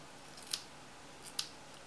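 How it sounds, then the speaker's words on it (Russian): Scissors trimming a puppy's ear fur into a neat triangle shape during grooming, two crisp close snips about a second apart over quiet background. "продвинутые пользователи берут в руки ножницы и уже непосредственно"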